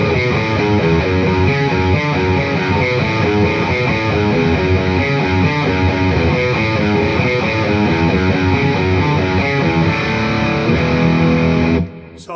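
Riff on heavily distorted, compressed electric guitar, a driving chugging pattern played alone for about twelve seconds before cutting off abruptly.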